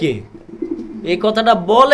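A Jacobin pigeon sitting on two eggs coos near and clearly, a soft low call followed by a louder run of throaty coos.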